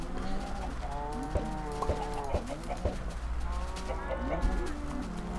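Chickens in the video game Minecraft, repeated clucking calls and short squawks over a steady background hum, with a voice talking over them.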